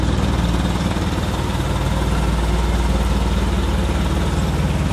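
A forklift engine runs at a steady, loud, close idle with an even low rumble throughout.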